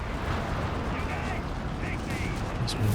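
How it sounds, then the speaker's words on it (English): A walking Stuka rocket barrage in Company of Heroes 3 on the Gazala map brings a dense rumbling wash of impacts. Crackling bursts ring out through it, and sharper blasts land near the end. "Oh, big walking Stuka."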